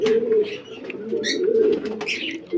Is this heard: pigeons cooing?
yes